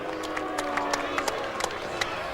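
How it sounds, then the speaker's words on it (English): A crowd at a boxing match held in a minor league baseball stadium applauds after a majority decision draw between Clarence 'Bones' Adams and Manuel Sepeda. A steady, moderately loud wash of crowd noise is broken by scattered sharper claps. "Give both of these fighters a round of applause."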